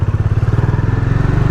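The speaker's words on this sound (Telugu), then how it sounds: "ఇప్పుడు ఆన్ బైక్" A motorcycle engine idles and pulls away at the start of a long highway ride, a steady rapid low thumping pulse of the exhaust heard close up, without talk.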